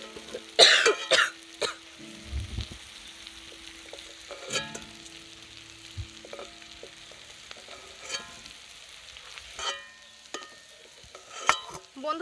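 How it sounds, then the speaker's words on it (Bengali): Mutton fat and spices are stirred in a kadai, with soft scraping strokes over a low sizzle. A single sharp cough breaks in near the start. "ভালো করে একটু নেড়ে নেব"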